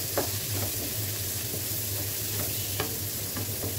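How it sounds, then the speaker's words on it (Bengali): Chopped onions sizzle and fry in hot oil left over from frying prawns, a steady close crackling hiss with occasional stirring clinks, and nobody is talking. "এখন দিয়ে দিলাম পেঁয়াজ কুচি, যেই তেলে চিংড়িগুলো ভেজেছি"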